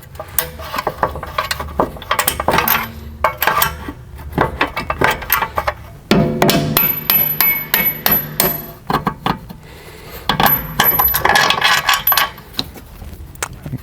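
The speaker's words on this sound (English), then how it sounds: "Just prying back the bolt a little bit to allow this to come free." Metal tools pry and knock at a suspension bolt on a Volkswagen/Audi MQB rear chassis, with repeated sharp clanks, ratcheting and tapping in irregular bursts, loud and close, with no talk.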